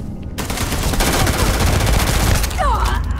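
Rapid automatic gunfire from a weapon in the sci-fi video game Starfield rattles off in a loud sustained burst, with a brief voice over the shooting near the end.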